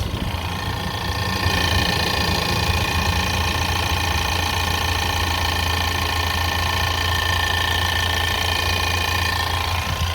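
A 2020 Ford Ranger XLT idles with a steady, close mechanical rattle and buzzing vibration riding over the low engine hum, continuous and unchanging throughout.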